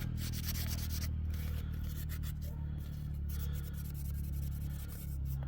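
4000-grit wet sandpaper rubbing and polishing a metal part, a steady close-up scratchy hiss running continuously without pauses.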